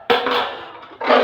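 Metal vessel handled to cover food in a kitchen, a sharp clanking knock, a brief scraping rattle, then another metallic clatter, close and loud with no talking.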